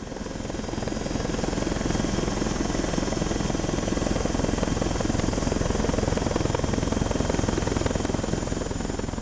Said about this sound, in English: While the helicopter patrols in the sky